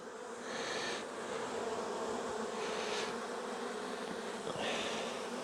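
Honey bees buzz steadily during a late-season hive inspection, a dense close hum with individual bees swelling louder as they fly near, and no talking.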